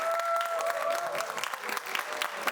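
A church congregation gives a brief round of applause, a dense continuous clapping with a faint sustained tone lingering underneath.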